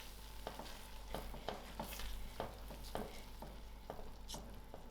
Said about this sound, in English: I am going to add it in. I'll mix this.